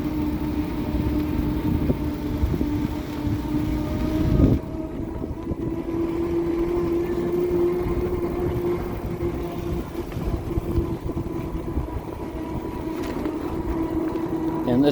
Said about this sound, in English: this bike does make some noise. A lot of it's the whine from the knobbies, but you can hear the motor too